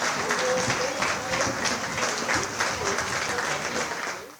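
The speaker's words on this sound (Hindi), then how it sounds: "कंट्रोल रूम तालियों और उत्साह से गूंज उठा।" Steady, dense applause and cheering fill a rocket launch control room after a successful liftoff of the Vikram-1 rocket from the first launch pad, sustained throughout before fading at the end.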